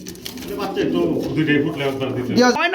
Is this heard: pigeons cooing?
yes